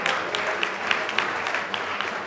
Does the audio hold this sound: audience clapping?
yes